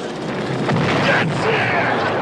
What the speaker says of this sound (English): British Navy with some offshore salvo. One battle in the North Atlantic coming up.